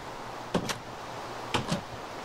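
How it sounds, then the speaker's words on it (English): Doors closing in the Minecraft video game, two quick pairs of clunks about a second apart, each a short double knock standing clear over a quiet background. "Yeah, yeah, doors closing all the time."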